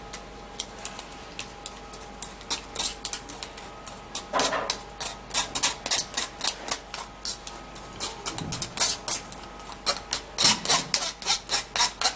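Chopped tomato being pressed and scraped through a sieve to remove the seeds, a rhythmic series of close rasping strokes, each short and distinct, repeating throughout.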